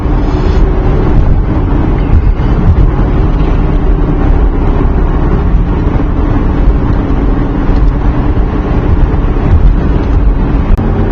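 A 1981 Mercedes 300CD turbo diesel coupe with a four-speed manual, cruising in fourth gear at about 2100 RPM and 55 mph, gives a loud, steady interior drone of engine and road noise with wind rush.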